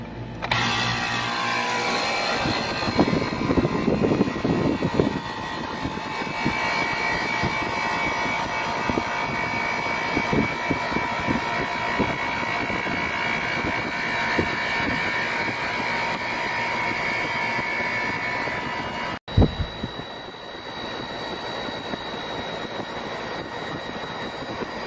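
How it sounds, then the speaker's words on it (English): An HVAC air conditioner compressor runs with a steady, loud mechanical hum and droning tones, then cuts off abruptly near the end, leaving a quieter background hum. "Here, after a few minutes, the compressor does shut off."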